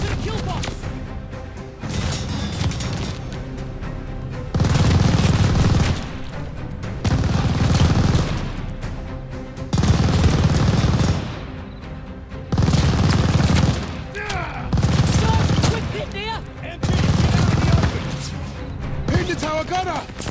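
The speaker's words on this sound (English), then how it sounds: "Unloading on the MG!" Loud machine gun fire from the Call of Duty Vanguard gameplay in Operation Tonga, heard as repeated heavy bursts every couple of seconds over constant close battlefield noise.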